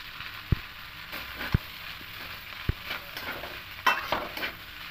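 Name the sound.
stirring pasta with vegetables in a pan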